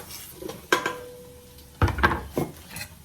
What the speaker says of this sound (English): So now I'm gonna toss in the papas.